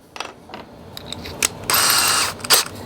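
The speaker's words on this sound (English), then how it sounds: "Then we can take a cordless drill" Short clicks and ratcheting snaps from a cordless drill fitted with a 1/4-inch bit, ending in a sustained burst of hissing whir of about half a second and one more quick burst, all close by.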